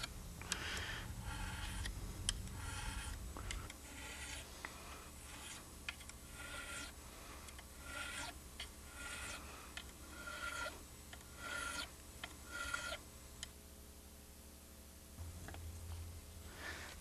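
Guitar frets are filed and smoothed to remove scratches, giving a series of close, soft rasping strokes in an even rhythm over a quiet low hum.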